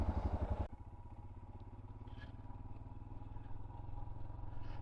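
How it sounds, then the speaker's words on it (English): A 2023 Royal Enfield Himalayan 411 motorcycle on the road, its single-cylinder engine thumping close up, loud at first, then settling into a steady rhythmic low burble while riding. "It's got a nice burble to her as well."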